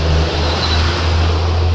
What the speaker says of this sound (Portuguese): Vai passar caminhão um monte aqui.